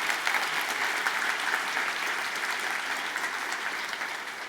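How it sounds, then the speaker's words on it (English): Sustained round of audience applause at a tech keynote in London, dense, even clapping from a large crowd that tapers slightly toward the end. "Can we all give her a round of applause for what she did?"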